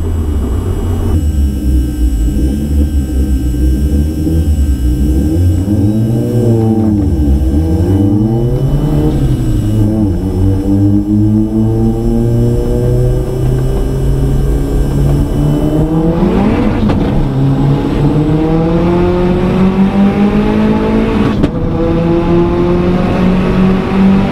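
BMW M140i accelerating hard from a 40 mph rolling start in a half-mile race, engine revs climbing in repeated rising sweeps through the gears with one fumbled shift late on, loud and close, no voices.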